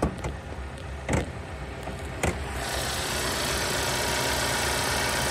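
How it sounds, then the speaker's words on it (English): A 2.4-litre four-cylinder engine in a 2016 Hyundai Sonata Limited idles close by with the hood up. The hum is steady and broadband, with a few short clicks early on and no talking. "Four cylinder, running well, sounds good."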